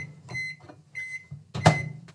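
Microwave oven running with a steady low hum, broken by a few short tonal beeps and a louder knock near the end, heard close in a quiet kitchen.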